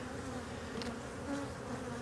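Honeybees buzzing on a brood frame lifted from a strong, building hive in Jacksonville, Florida, a steady low drone close by and continuous, with no talking.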